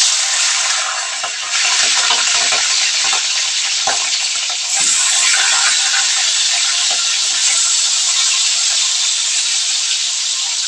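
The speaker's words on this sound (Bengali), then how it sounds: "তো এবার আমি মাছগুলো ছেড়ে দেবো একটা একটা করে। মাছগুলো একটু কড়া করে ভেজে নেব।" Fish pieces rubbed with salt and turmeric fry in hot oil alongside potatoes, a loud, continuous close-up sizzle and hiss with occasional stirring crackles and no voices.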